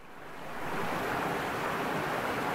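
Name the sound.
waterfall flowing into the Meuse river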